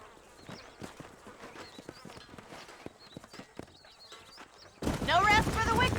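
Horse hooves clip-clopping in Red Dead Redemption on PS5, a light steady patter of hoofbeats over wind and insect-like buzzing, followed by a loud swell of game music near the end.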